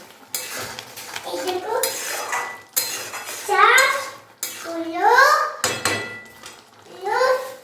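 Ghugni with green chillies being stir-fried in a pan gives loud, close scraping and clattering of a utensil against metal, while a child and an adult talk over it with rising, sing-song voices.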